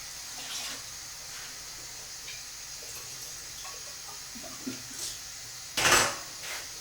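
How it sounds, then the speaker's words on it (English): Running tap water rinses a spoon and homebrew gear for a stout, a soft steady hiss with faint clinks and a louder splash near the end. "let's give this stuff a rinse."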